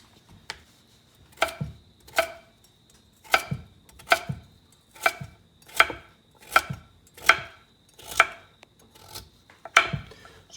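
A knife chops through a tough sweet potato on a cutting board, a steady series of about a dozen crisp, evenly spaced thuds close by with no talking.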